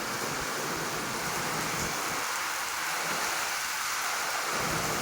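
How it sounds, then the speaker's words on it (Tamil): Heavy rain pours down in a steady, loud, broadband hiss, with deeper rumbling swells coming and going underneath. "ஓ சூப்பராக மழை பெய்யுது."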